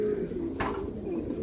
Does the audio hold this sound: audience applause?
no